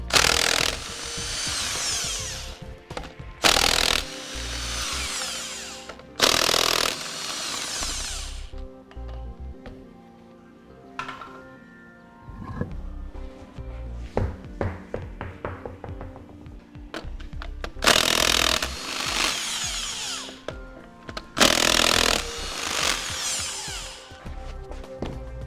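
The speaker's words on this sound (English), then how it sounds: "Next, we'll remove both rear wheels." A power tool removes the rear wheels of a 2001 GMC Sierra pickup, heard as several loud whirring bursts separated by pauses filled with clanks and rattles of wheel work.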